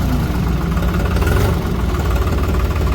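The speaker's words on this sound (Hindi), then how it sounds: "मतलब बिल्कुल डिफरेंट आवाज़ है ट्रैक्टर की।" A 50 HP New Holland 3630 Super Plus tractor engine runs steadily and loud up close, a low rumbling drone with a slight knock, holding a high rev without words.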